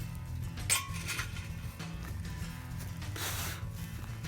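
Charcoal coals being added to a Lodge Sportsman's Grill, a few light clinks and scrapes close by over low background hum, with no talking.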